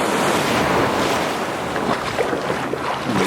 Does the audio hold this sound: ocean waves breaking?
yes